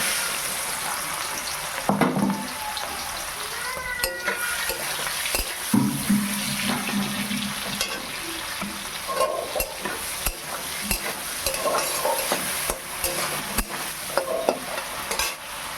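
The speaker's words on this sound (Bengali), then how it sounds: "এবার আমি চিংড়ি মাছগুলো ভেজে নেব।" Spiced prawns sizzle and crackle in hot oil while a utensil stirs and scrapes the pan intermittently, close and fairly quiet, with no talking.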